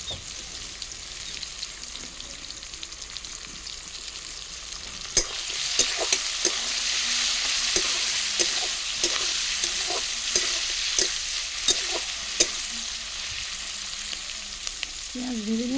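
Onions fry in a pan on a stove, a steady close sizzle that swells partway through, punctuated by repeated scraping stirs and light clinks.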